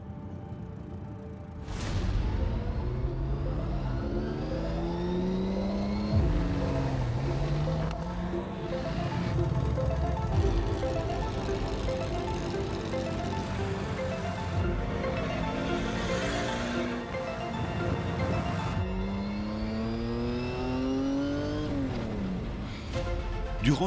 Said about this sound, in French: les quais de Seine vibrent au son des moteurs direction Vaux-le-Vicomte pour le départ officiel du Tour Auto